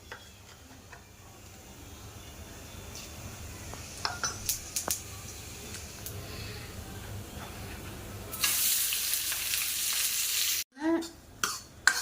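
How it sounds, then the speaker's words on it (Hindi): Cumin seeds dropped into hot oil for a home-cooked vegetable tempering, a faint crackle and light clinks that burst into a loud, bright sizzle near the end, followed by stirring clatter from the pan. "तो तेल गरम हो गया है, अब इसमें जीरा डाल देती हूँ।"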